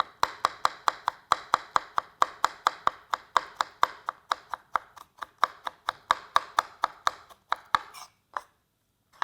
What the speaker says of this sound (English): It also has those wonderful scallops here, so it just glides through whatever you're slicing.